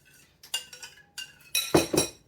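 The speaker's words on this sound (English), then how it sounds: "Just give the sauce a stir again" A spoon clinks and scrapes against a pan while stirring a sugary sauce for chicken fried rice, a few short bright metallic taps in quick bursts, close and alone.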